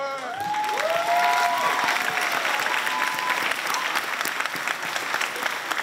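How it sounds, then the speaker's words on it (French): An audience at a sports awards evening claps steadily throughout, a dense sustained applause with a few whistles near the start, fairly loud and close. "Applaudissons nos personnalités sportives féminines et masculines, Béatrice Janel et Antoine Fraser."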